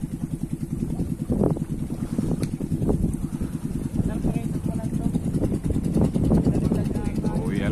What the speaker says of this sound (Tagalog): Mahirap dito malagwan. Pasalubong ang hangin.